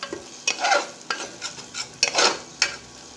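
Tomato masala with turmeric, chilli powder and garam masala being stirred and sautéed in a pan on low heat: a handful of scraping stir strokes over a soft, steady sizzle, close and moderately loud, no talking.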